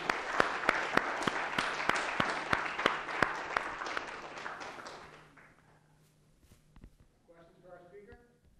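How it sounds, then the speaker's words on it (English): Conference attendees applaud the organizers in a dense spread of clapping with a few loud, sharp claps near the mic, fading out after about five seconds, then a voice speaks. "So maybe everyone could clap for them."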